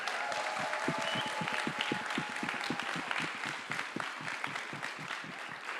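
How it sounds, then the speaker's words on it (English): A TEDx conference audience applauding a speaker, many hands clapping in a continuous roomy wash with individual claps standing out, steady and moderately loud from start to finish. "Another round of applause for him, please"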